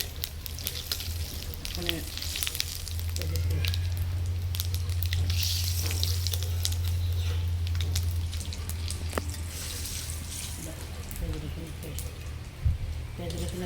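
Whole cumin seeds sizzle and crackle in hot oil in a pan while cooking a prawn and coconut curry, a continuous frying hiss with stirring clatter and a voice speaking briefly.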